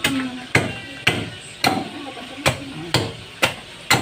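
Sharp chopping strikes land about every half second, seven or eight heavy bolo blade blows hacking open a young coconut's firm, fibrous husk, close by.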